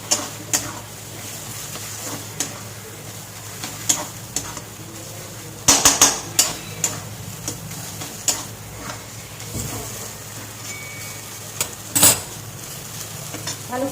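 Spice paste for shrimp being sautéed and dried out in a pan, with a low steady sizzle and sharp intermittent scrapes and clinks of a spoon stirring against the metal, no talking.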